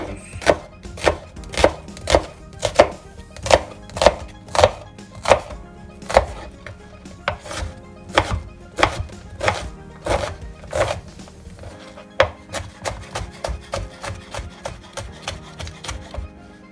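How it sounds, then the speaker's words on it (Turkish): A knife chops onions rhythmically against a board, firm evenly spaced strikes that turn quicker and lighter toward the end, close and without voices. "Ardından önce e, soğanlarımızı doğrayacağız."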